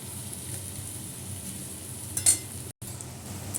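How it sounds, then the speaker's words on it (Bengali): Pointed gourd curry with ginger paste, tomato and cumin seeds fries steadily in a pan, a soft continuous sizzle with a brief clink of a utensil near the end. "আদা বাটা, টমেটো দিয়ে জিরা ফোড়ন দিয়ে পটলের রসা বানাচ্ছি"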